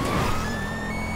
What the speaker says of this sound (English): Hear my siren.